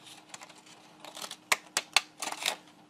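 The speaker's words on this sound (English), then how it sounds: "I was first using the regular scissors, and I thought, no, I don't want to do just the regular cut." Scissors snipping through paper to make crinkle-cut shapes, heard as a string of sharp, close snips and crisp crackles spread irregularly across a few seconds, with no talking.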